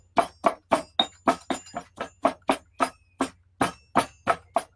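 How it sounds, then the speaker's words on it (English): Incense being pounded in a mortar for a banishing blend: about twenty sharp, evenly spaced thuds with a hard clinking edge, close and distinct against a quiet low hum, no talk. "So while you are pounding the incense or grinding,"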